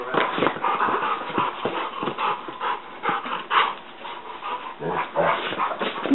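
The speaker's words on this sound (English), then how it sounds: "Best chihuahua ever." Small chihuahua panting rapidly and letting out whimpers and faint whines, heard up close in a steady uneven rhythm, with soft voices faintly in the background.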